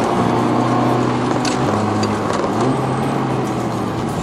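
A light-tuned Mazda ND Roadster pulling hard in third gear on a winding mountain road, its engine a loud, steady drone heard from inside the car with the pitch rising and dropping slightly, alone without talk.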